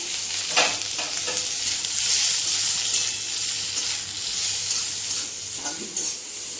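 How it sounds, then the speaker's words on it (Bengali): Okra, slit and dusted with a little turmeric, fries in a pan over lowered gas with a steady soft sizzle, broken now and then by faint stirring scrapes and clinks. "এখানে ঢেঁড়সটা ভাজা হতে থাক, গ্যাস কমিয়ে দিয়েছি"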